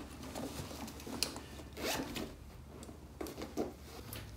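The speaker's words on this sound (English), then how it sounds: "And on the other side, you got just one zipper" A zipper on a Michael Kors handbag is pulled in several short, raspy runs, up close and moderately loud, with small handling noises in between and no speech.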